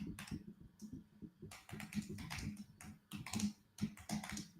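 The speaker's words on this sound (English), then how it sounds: "I'm typing so fast." Rapid typing on a computer keyboard, close and fairly quiet, with clusters of quick clicking keystrokes in irregular bursts and brief pauses between them.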